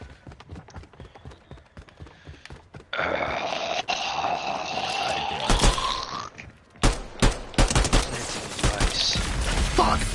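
Shotgun blasts in a first-person video game, a handful of heavy booming shots in quick succession after a stretch of footsteps and a sustained whooshing effect, loud and close.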